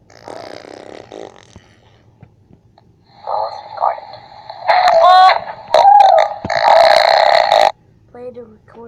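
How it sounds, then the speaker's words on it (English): Fart noises played back from a fart-recording phone app, a run of loud, rough, bubbling blasts with wobbling pitch, mixed with someone talking before and between them. "Oh, I guess it records a fart."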